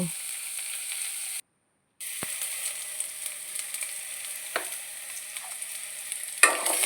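Cucumber palya frying in a pan while being stirred, a steady sizzle running throughout with a brief break and occasional scraping clicks of the spoon, close and moderately loud, with no talking.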